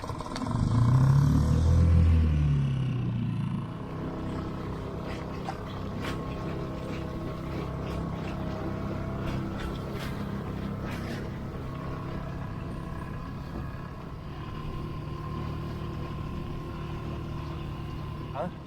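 Small dinghy motor on open water near Greek islands, a loud close engine roar at first that settles into a steady lower drone with water rushing past, with people talking over it.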